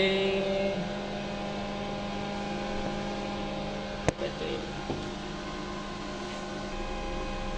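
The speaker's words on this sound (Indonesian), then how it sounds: "di sini ada suara bising kipas tapi bukan dari inverternya" A cooling fan runs near a solar inverter during a 3 kW load test, making a steady hum and whir with a single sharp click partway through.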